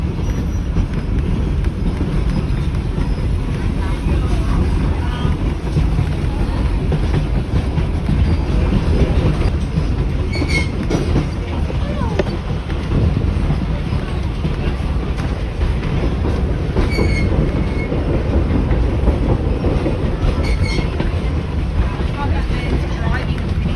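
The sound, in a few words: Mary Valley Rattler train running from Gympie to Amamoor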